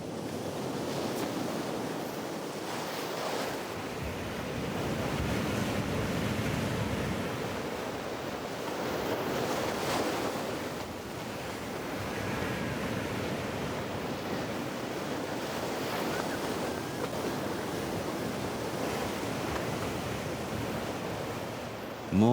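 Ocean waves crash below a cliff on Russia's Vladivostok coast: a continuous roaring wash of surf with slow swells and wind noise, loud and steady throughout.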